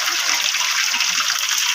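Sitaw string beans drop into a pot of simmering sinigang soup, bringing a close, steady splashing and bubbling that runs throughout.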